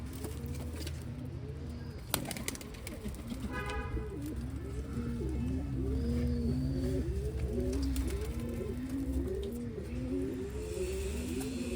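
Pigeons in a loft give repeated rhythmic cooing calls, steady and close, with a faint background hum and occasional bird chirps.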